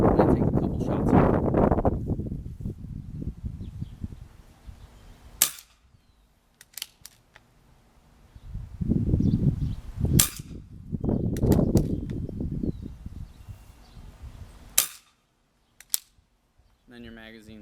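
FX T12 Whisper .22 air rifle fired a couple of times, giving sharp, brief cracks separated by bolt clicks, with talking before and between the shots.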